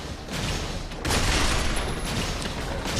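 Gunfire in the Binary Domain video game, a dense, continuous roar of shots and booming blasts that grows louder after the first second, with no clear pauses.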